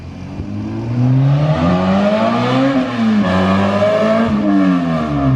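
A Honda Civic hatchback with a K20 engine revs hard nearby, its pitch sweeping up and down through several loud, rising and falling pulls, with no talking.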